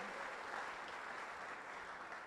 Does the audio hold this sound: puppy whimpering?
no